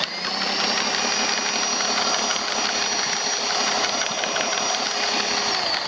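A Super Vee SV-A-WC power drain cleaner runs steadily, its motor whirring with a rattling cable spinning and being worked back and forth inside a drain pipe, loud and continuous with no talking.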